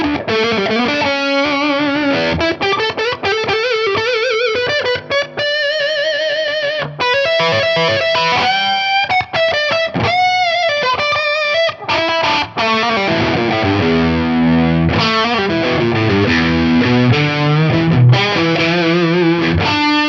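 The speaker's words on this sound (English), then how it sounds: "It almost gives you that cocked wah style effect on there." An electric guitar on a Strat bridge pickup, with the tone control rolled fully down, plays through the clean channel of a Synergy IICP preamp, giving a dark, nasal, wah-like tone as a continuous, busy, close phrase.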